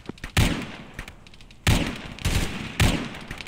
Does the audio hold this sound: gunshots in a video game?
yes